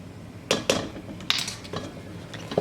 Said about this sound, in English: just keep mixing so it doesn't stick to the bottom of the pan